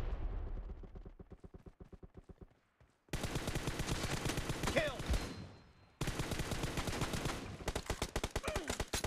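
Rapid bursts of gunfire from PUBG Mobile crackle in dense, repeated volleys, pausing briefly before resuming, with faint talk in the background.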